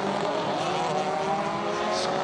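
A rally car racing through a short circuit stage in Strasbourg during a WRC France Alsace special stage roars steadily and loudly, its engine droning continuously up close with a constant wash of noise.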